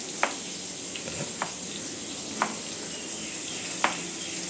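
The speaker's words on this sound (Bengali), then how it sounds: "এর মধ্যে তেলে কী কী ফোড়ন দিচ্ছ? জিরা না? জিরা, শুকনো লঙ্কা আর আলু।" Cumin seeds and dried red chilies temper in hot oil in a home kitchen, the start of a bottle gourd and potato dish. A steady soft sizzle carries a few sharp, separate pops.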